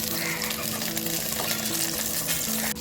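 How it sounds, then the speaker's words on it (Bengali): Eggplant pieces fry in a hot wok with a loud, dense, continuous sizzle and crackle, close up and steady with no talking. "উল্টে পাল্টে দু চার মিনিট ধরে বেগুনগুলো খুব ভালো মতো ভেজে নেবো"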